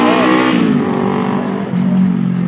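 A motorcycle engine revs hard and sweeps past close by, a loud rising then falling roar lasting a couple of seconds with no talk over it.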